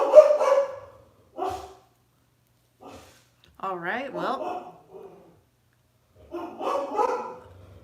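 A dog barks a few times at a distance in a quiet room, between stretches of someone talking nearby while she styles her hair.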